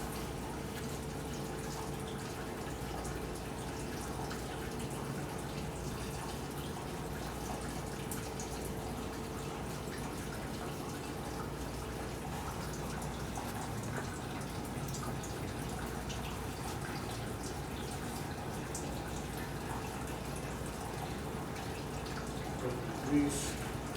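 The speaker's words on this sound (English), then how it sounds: "Wash this off here." Water runs steadily while washing off a seat post part for a 1938 Harley-Davidson Knucklehead, a constant splashing trickle at moderate distance.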